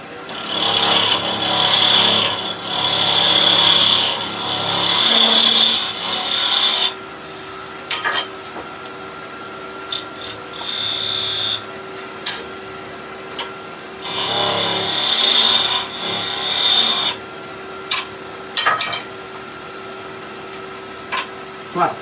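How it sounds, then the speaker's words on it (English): Wood turning on a lathe with a skew chisel, the tool rest set high above centre for skew cutting on a party popper cannon project: bursts of hissing, scraping cuts with a whining tone, separated by quieter gaps and light taps. "Let's use the skew. Nice and high with the tool rest, above centre when we're skew cutting."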